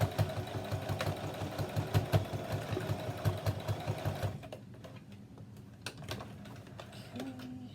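A sewing machine stitching a bottle strap, with rapid rhythmic needle pulses up close for about four seconds, then quieter, sparser mechanical clicks and whirring as the stitching slows and stops.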